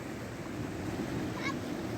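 Large ocean waves surge in a constant, moderately loud wash of surf with some wind noise, steady with no distinct breaks.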